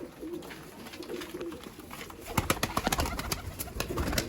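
Flight pigeons coo softly nearby, joined by a run of sharp flapping and clapping bursts that grow louder toward the end.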